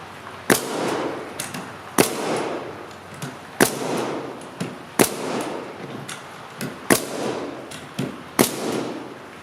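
Freeman framing nailer driving nails, a series of sharp pneumatic bangs at irregular intervals of about a second, eight or so shots, close and loud over steady background noise with no talk.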